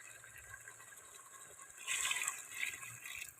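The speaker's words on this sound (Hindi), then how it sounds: "ये आधा गिलास हमने पानी इसमें ऐड किया है।" Half a glass of water splashes and gurgles as it is poured into a pot of Sindhi chicken biryani, a steady liquid rush over a faint background hiss, lasting a couple of seconds.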